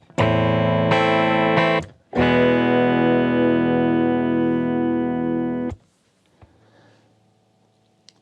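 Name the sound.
clean electric guitar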